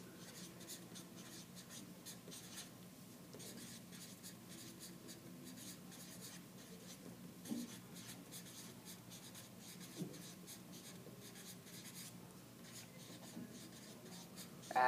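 A pen scratches notes onto paper during a maths lesson on subtracting fractions, a soft, continuous writing rasp with brief pauses and small taps, close up and quiet.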